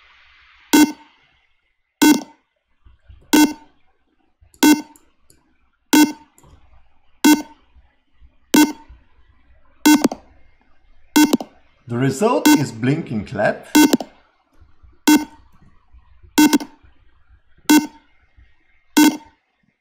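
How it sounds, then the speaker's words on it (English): A sharp electronic buzzer beep from a simulated IoT circuit repeats in a loop at a steady pace, about every second and a quarter, while a voice speaks briefly partway through. "Plus buzzer beep in a loop."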